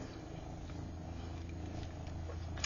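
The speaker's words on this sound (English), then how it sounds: "I'm sure you can hear her purring." A cat purrs steadily and softly at close range, a low continuous rumbling with no other sounds.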